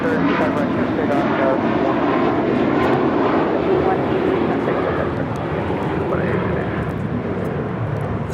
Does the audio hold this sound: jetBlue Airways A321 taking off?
yes